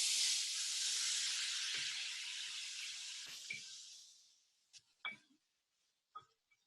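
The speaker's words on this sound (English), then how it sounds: "I'm going to sprinkle it with some veggie broth." Veggie broth hits diced daikon in a very hot oil-free skillet, giving a loud steamy hiss that slowly fades away over several seconds, followed by a few faint scattered pops and clinks.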